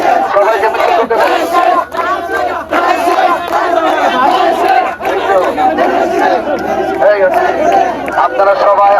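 A large political procession crowds through a bazaar, many voices chanting and shouting together in loud, steady waves close by, with slogans rising and falling throughout.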